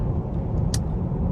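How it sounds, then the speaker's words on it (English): Steady low road rumble inside a moving 2025 Cadillac Optiq electric SUV, a continuous tire and wind hum with one brief high hiss partway through, no talking. "there's a considerable amount of more road noise in this car"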